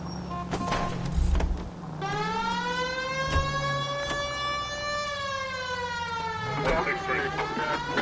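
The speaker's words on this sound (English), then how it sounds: "Turn on the siren and pull her over." A police car siren in the video game L.A. Noire wails, rising and sweeping in a steady electronic tone, loud and close, after a few short thumps and a brief engine sound.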